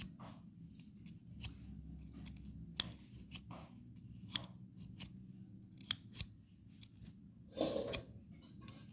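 Metal scissors scrape dirty crust off a gas stove burner in a series of short, sharp rasping strokes up close, with a brief louder scraping burst near the end.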